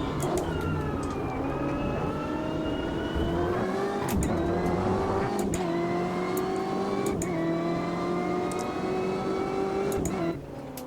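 A front-engined racing car in the Automobilista 2 video game roars steadily, pitch climbing and dropping sharply at several gear shifts, loud and close throughout with no talk.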